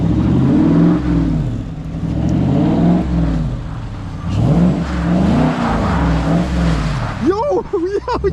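A 2014 Dodge Charger R/T engine rises and falls in repeated revving swells as it slides on snow, loud and close, with people talking over it toward the end.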